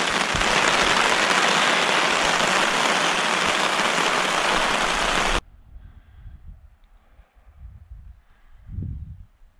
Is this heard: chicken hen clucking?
no